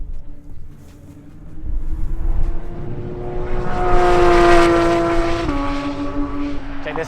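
A Porsche 992 GT3 approaches at full throttle, its high-revving engine building to a loud, close pass with a rising then falling whine and a gear change, fading as it moves away.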